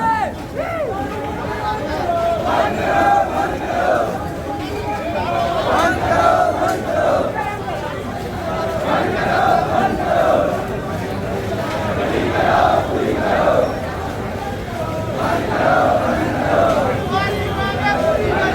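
A large protest crowd in Rajnandgaon, Chhattisgarh, chants slogans together in a steady, rhythmic, repeating cadence, loud and sustained throughout, with a mass of voices and general hubbub filling the scene.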